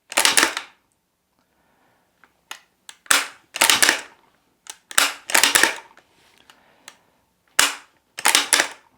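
Lee-Enfield bolt-action rifle fired repeatedly outdoors: six or seven sharp, loud cracks spaced a second or so apart, each with a brief decay, separated by quiet gaps with faint handling clicks.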